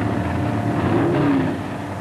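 Late-1960s Superstock drag cars, including a hot Camaro, launch off the starting line in a short, steady burst of loud engine roar with a rising whine partway through, heard without talk.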